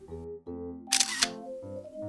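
A camera shutter fires once, triggered by a ring remote, as a short crisp burst midway through, heard over steady background music.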